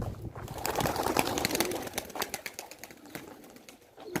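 A flock of pigeons, with a stray bird joining, coos and calls close by amid scattered wing flaps and rustling, over a soft background murmur.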